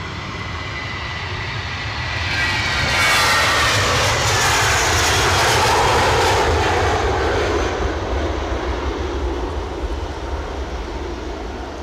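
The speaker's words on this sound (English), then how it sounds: "Heathrow departure pending." A jet airplane departs Edinburgh airport with a broad, roaring engine rumble that swells to a loud peak midway, then slowly fades as it climbs away.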